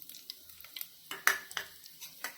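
Whole spices including cinnamon, cloves, cardamom, bay leaf and fennel fry in hot oil, giving sparse crackles and pops with a few metallic utensil taps against the pan, close and fairly quiet.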